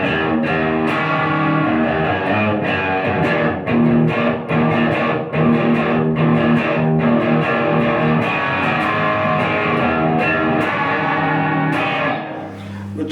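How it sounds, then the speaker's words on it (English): Electric guitar through a bluesy distortion pedal emulating a 50-watt amp, warm and gritty, sustained chords and picked notes ringing out continuously and loudly, fading slightly at the end. "it emulates a 50-watt amp, and it has a kind of bluesy distortion"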